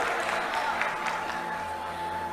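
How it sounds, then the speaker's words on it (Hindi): Loud, steady applause from a mushaira audience at a poetry recital, a dense wash of many hands clapping continuously with a faint sustained tone running underneath. "जोरदार तालियां"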